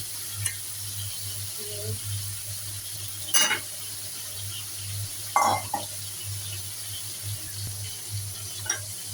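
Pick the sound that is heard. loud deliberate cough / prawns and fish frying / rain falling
prawns and fish frying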